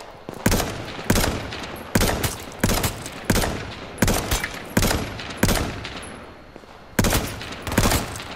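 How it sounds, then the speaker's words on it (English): Sniper rifle shots in a video game: about a dozen sharp, loud cracks spaced roughly evenly, each trailing a short echo, with nothing else in between. "someone tried to snipe me"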